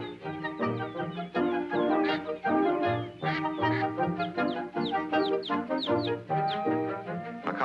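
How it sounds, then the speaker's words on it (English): Waterfowl call on a mill pond in spring nesting season, a busy chorus of clucking, quacking cries that overlap in rapid, uneven bursts at moderate volume. "In spring, the waterfowl came to nest and rear their young."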